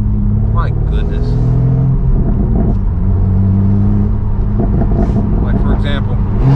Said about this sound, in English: the downshifts are so slow. They don't sound as sharp.